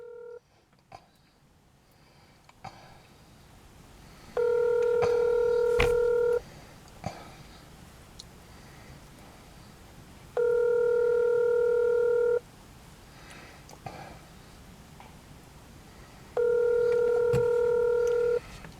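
Telephone dialing tones during a phone call made after a Veterans Day storm knocked down a power pole: three identical long steady tones, each about two seconds, evenly spaced, with faint breathing and room noise between them.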